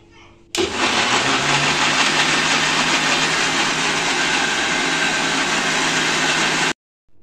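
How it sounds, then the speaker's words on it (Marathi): A kitchen mixer grinder blends mango pieces with milk, a loud, steady motor whir with churning that starts abruptly, runs for about six seconds without talk, then cuts off. "आता याला मिक्सर मधून फिरून घेणार आहे।"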